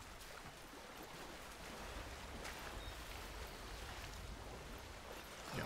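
Wading through a shallow river in Death Stranding: a steady, faint rush of splashing water that runs continuously without a break, with no voices.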